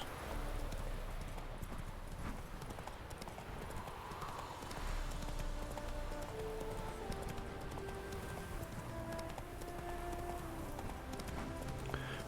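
Horse hooves clip-clop at a steady trotting rhythm in the video game The Witcher 3, over a low ambient background, with soft tonal music-like hums drifting in.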